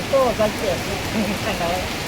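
Steady rain hiss fills the background while a person talks over it.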